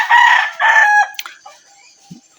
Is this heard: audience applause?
no